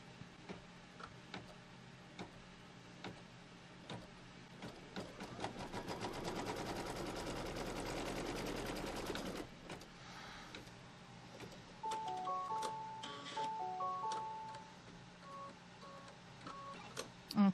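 An embroidery sewing machine stitches quilt fabric in a hoop, starting with rapid ticking stitches that build into a fast, steady mechanical whirr before stopping, followed by intermittent beeps and clicks.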